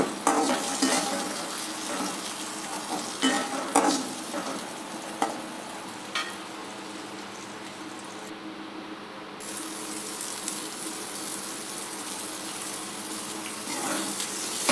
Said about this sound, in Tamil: பெரிய வெங்காயம் நறுக்கியதை வந்து ஆட் பண்ணிக்கணும். ஆட் பண்ணி நல்லா வதக்கிட்டு